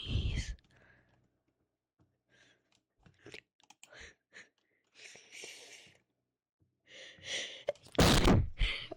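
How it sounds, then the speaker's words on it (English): A person's sneeze bursts out loud and close near the end, a sharp broadband blast after a few quiet breaths, sniffs and small mouth clicks during an indoor gaming stream. "I have to sneeze."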